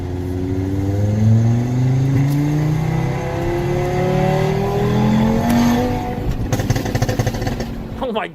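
A tuned car's engine revs hard with a rising and falling drone, near and loud, then breaks into a rapid burst of exhaust crackles and pops near the end.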